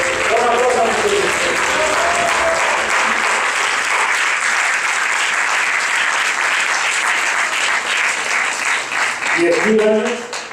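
A congregation at a regional Advent retreat applauds in honor of Christ, a loud, sustained wash of many hands clapping for about ten seconds, with voices and a sung melody briefly surfacing at the start and end.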